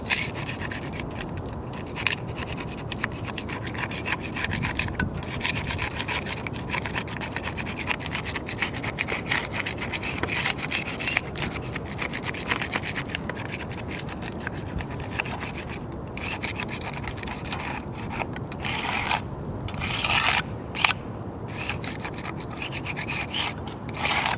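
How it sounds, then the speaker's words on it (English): A scraper or chisel scratches cement slurry off brick in continuous, close, rasping strokes, a rough grinding texture with irregular louder scrapes running throughout. "You can just go and take a scraper or a chisel, and you can just kind of scratch that off"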